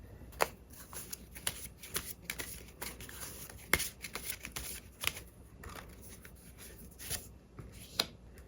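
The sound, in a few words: shuffling tarot cards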